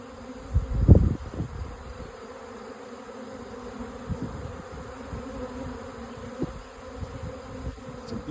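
An active honey bee swarm hums all around, a steady close buzz from many bees with a louder pass of a single bee near the mic early on, then a continuous drone with occasional nearer fly-bys.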